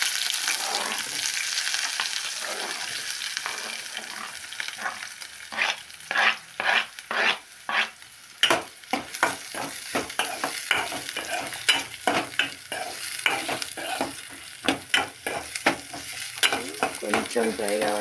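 Green chilies and onion frying in oil with cumin and mustard seeds, first a steady sizzle, then a long run of sharp, close clatters as a spoon stirs and scrapes the pan.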